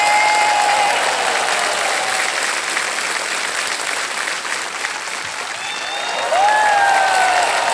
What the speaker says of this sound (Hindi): ताली बज जाएगी।